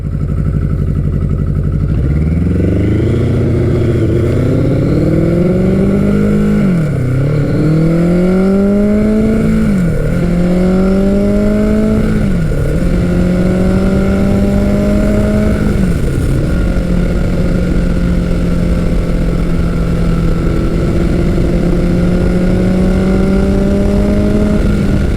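A 1983 Kawasaki GPZ 1100 motorcycle on a test ride after carburetor work, its inline-four engine loud and close as it pulls through repeated rising gear runs with dips at each shift, settling into a steady cruise.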